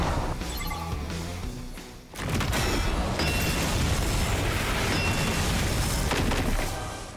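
A fire attack explosion in The Hundred Line: Last Defense Academy, a loud roaring blast that cuts out briefly, then surges back as a sustained, crackling rumble before fading slightly at the end.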